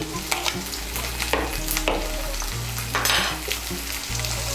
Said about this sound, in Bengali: মিশিয়ে নিয়ে কাঁচা লঙ্কা কুচিটাকে একটু ভেজে নেব।